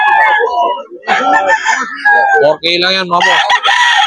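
A pumpkin gamefowl rooster crows at a busy pet market in Bocaue, its loud drawn-out calls rising and falling close by while someone talks over them.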